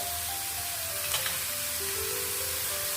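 Sesame seeds sizzling in hot oil for a stuffed ivy gourd dish, a soft steady crackling hiss close by, faint and continuous.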